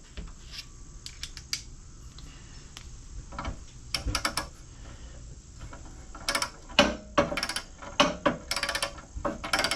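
A ratchet works a bolt loose on a 1975 Toro Whirlwind mower with a 19-inch deck and Briggs & Stratton engine, giving quick bursts of metallic clicking, close by and moderately loud, with pauses in between.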